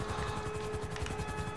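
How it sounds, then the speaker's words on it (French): A helicopter's rotor thumping rapidly and steadily overhead in GTA 5, a continuous pulsing chop over a low mechanical drone. "Hélicoptère au-dessus de la tête."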